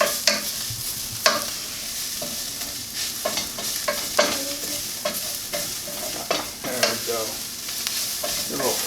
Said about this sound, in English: Going to add in the garlic and the curry powder. And that's getting a little fragrant. Give it a little stir.